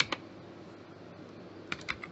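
A few quiet keystrokes on a computer keyboard while typing a document in MS Word, two short clusters of clicks near the start and end separated by a stretch of soft room hiss.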